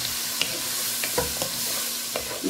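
Shrimp are stirred in a sizzling pan of oil and ingredients, with soft scraping strokes recurring every half second or so over a steady fry hiss.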